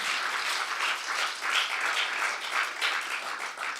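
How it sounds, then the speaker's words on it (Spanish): Church congregation applauding together, a dense, steady wash of many hands clapping at even loudness throughout, with no voices rising above it. "Denle un aplauso al Señor Dios Todopoderoso"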